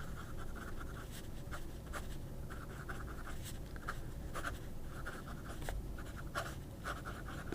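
An Asvine V800 fountain pen with a green body writes on paper, making soft, steady scratching strokes with frequent short pauses as the nib lifts and touches down, quiet and close.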